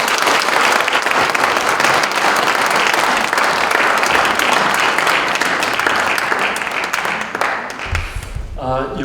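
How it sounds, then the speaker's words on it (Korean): Warm, sustained applause from a forum audience greeting a pastor as he comes up to lecture, loud and dense for several seconds before tapering off, with a voice starting to speak at the very end. "뜨거운 박수로 환대를 드리겠습니다."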